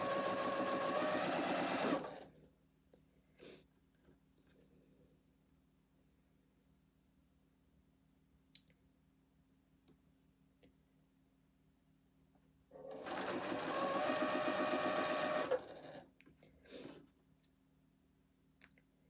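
A sewing machine stitching quilt fabric pieces runs in two loud, close bursts of rapid whirring, a couple of seconds each, separated by a long quiet pause with faint handling clicks.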